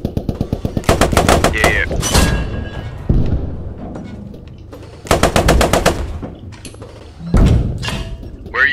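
Rapid infantry machine-gun bursts and rifle fire in the WWII game Post Scriptum, heard from inside a Cromwell tank, loud repeated volleys with heavy thuds, while a player speaks briefly.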